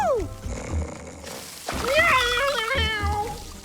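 An animated cartoon cat meows in a drawn-out, wavering, pitched call that bends up and down over a couple of seconds, loud and close, with a short bit of music and other sounds just before it.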